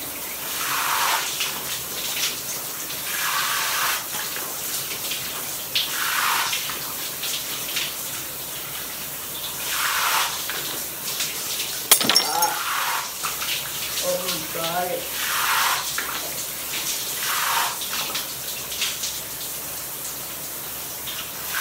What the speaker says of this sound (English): I do my shower routine.